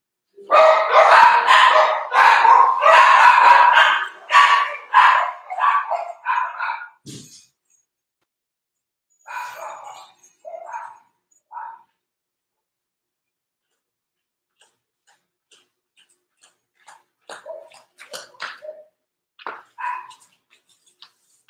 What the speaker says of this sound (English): You'll hear my dogs out back.